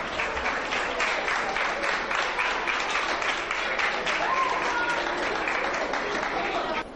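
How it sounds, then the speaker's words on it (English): A school debate audience at a Rivers State television programme in Port Harcourt claps steadily, dense and continuous applause that holds at an even level for the whole stretch before tapering slightly at the end. "Round of applause for them."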